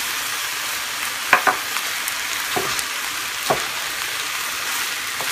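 Seafood rice with shellfish frying in a pan on a home stove, a steady close sizzle broken by several sharp scrapes and knocks of a spoon stirring through the grains.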